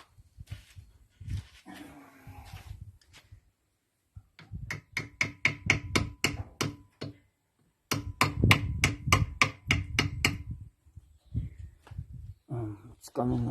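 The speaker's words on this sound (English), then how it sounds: "There's the hammer." A hammer strikes while freeing the diesel pump from a Peugeot XD2 engine, landing sharp metallic blows in two rapid bursts of about ten hits each, with a voice briefly heard at the start and end.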